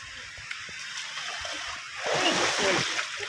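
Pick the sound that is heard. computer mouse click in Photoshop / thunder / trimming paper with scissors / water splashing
water splashing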